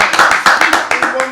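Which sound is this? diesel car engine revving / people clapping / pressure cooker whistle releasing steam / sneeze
people clapping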